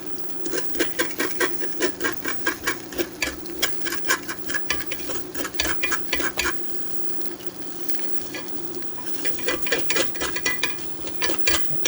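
Stuffed egg is scraped and mixed by hand in a bowl or pan, making quiet, rapid, irregular scratching and tapping strokes with a short pause midway before the scraping picks up again.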